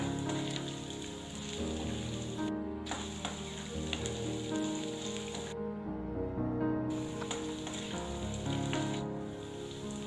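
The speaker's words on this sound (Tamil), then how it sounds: "இஞ்சி பூண்டு பச்சை மிளகாய் இதெல்லாம் ஓரளவுக்கு ஃப்ரை ஆகி வரும்போது நம்ம சின்ன வெங்காயத்தை சேர்த்துக்கலாம்" Shallots with ginger, garlic and green chili fry in hot oil for a Tamil chutney, a steady close crackling sizzle that continues throughout with brief dips, with no talk.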